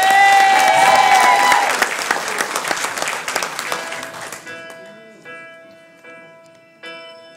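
An audience applauds and cheers for a singer, a dense, loud burst of clapping that thins out into scattered claps and fades to near silence after a few seconds.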